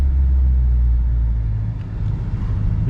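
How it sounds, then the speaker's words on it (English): A Ford Mustang EcoBoost with a 6-speed manual gearbox rolls slowly through a parking lot, its engine a steady, close, low rumble with no talking. "Driving through the parking lot"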